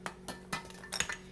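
A glass jar clinks several times as it is handled and set down, short bright taps spaced irregularly across a quiet room, close and moderately loud.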